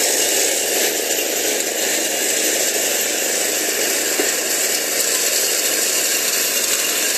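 Steady, loud two-stroke drone of a T21 multi-function grass cutter engine, run at about two-thirds throttle with spinning blade, holding one buzzing rough pitch throughout with no talking.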